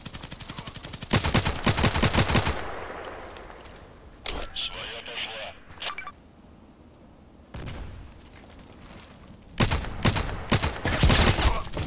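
Automatic rifle fire in the online shooter Contract Wars on the Old Sawmill map: several loud, rapid bursts separated by quieter gaps with faint game ambience.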